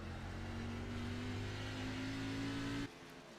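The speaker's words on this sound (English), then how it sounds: "Listen to the throttle coming to the white flag." A race car engine at Watkins Glen International drones loud and steady as the white flag comes out, its pitch climbing slowly under throttle, then cuts off abruptly near the end.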